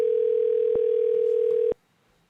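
A mobile phone call emits a steady, loud electronic tone, a single sustained pitch with two faint clicks in it, that cuts off abruptly after under two seconds and leaves near-silence.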